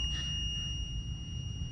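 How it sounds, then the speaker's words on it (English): A multimeter beeping during a continuity test on a grounded copper wire in an old Lennox air conditioning unit, a steady high electronic tone held through the whole moment over low background rumble. "And it's beeping on continuity"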